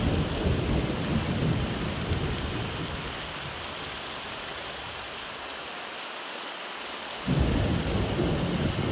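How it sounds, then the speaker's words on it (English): Synthesized rain and thunder from a VPS Avenger FX Rain preset, a dense steady hiss of rainfall with a low rumbling swell that drops away and then surges back in loudly. "And a little bit thunder."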